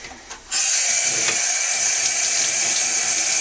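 Tap water runs in a steady, loud hissing stream that starts abruptly after a brief quiet moment and continues evenly to the end, used to rinse off touch-up filler.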